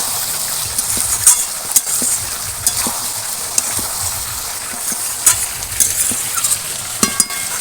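Fried chicken coated in salt and turmeric, with fried potatoes, sautéing in a pan for a spicy chicken curry; a steady close sizzle with frequent sharp spatula scrapes and clinks as it is stirred.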